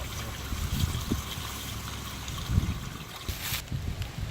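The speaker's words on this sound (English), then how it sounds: "I'll hit the pump switch, and here in a second, it will start pumping it over to the septic. Now you can hear it sloshing." A motorhome macerator pump moves black tank waste to a septic line, making a continuous low sloshing, gurgling churn with irregular surges, close and steady throughout.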